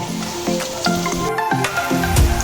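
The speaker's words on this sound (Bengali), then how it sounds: "পেঁয়াজিটা এবার আমি ভালো করে ভেজে নেব, লাল লাল করে" Onion fritters (piyaji) frying in hot oil, a steady close sizzle with repeated bubbling bursts and scraping stirs throughout, no talk.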